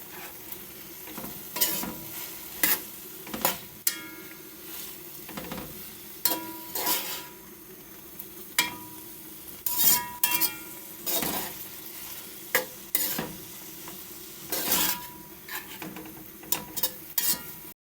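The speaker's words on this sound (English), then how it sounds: "Now I add my Frankfurter. I'm going to stir it up." Frankfurter pieces are stirred in a pot for Jamaican-style macaroni and frankfurter, with a soft sizzle running underneath and repeated sharp scrapes and clanks of the spoon against the pot at irregular intervals, up close.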